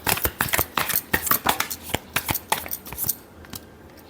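Tarot cards being shuffled close up, a quick run of crisp riffling snaps and slaps in an uneven rhythm that thins out and stops toward the end.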